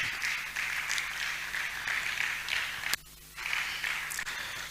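Continuous crowd clapping at a university inter-faculty debate, a broad steady patter that briefly dips near the middle before resuming at full strength.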